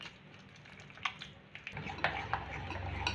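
Jilebi batter being mixed with water by hand in a bowl, faint soft squelching and stirring with scattered light clinks, quiet and close.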